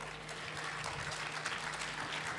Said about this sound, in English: Please give a big applause to our panelists here.